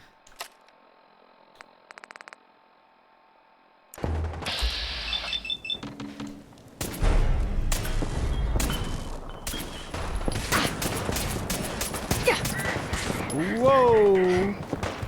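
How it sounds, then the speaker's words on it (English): Artillery strikes land after smoke grenades are thrown in Fallout 4, a near-silent opening giving way at four seconds to a dense barrage of booming blasts and crackling impacts that continue to the end, with voices and game effects mixed in. "Keep throwing these artillery smoke grenades."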